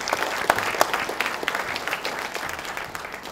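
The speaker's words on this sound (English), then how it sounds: "So applause for the children." An audience at a film festival award ceremony applauds the children, a dense, steady wash of clapping from many hands that slowly fades over a few seconds.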